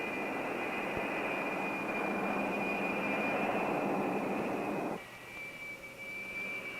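Four jet engines of a United Douglas DC-8 airliner spool toward full takeoff thrust, a loud, sustained roar with a high, steady whine on top, until the roar drops away sharply and the whine lingers.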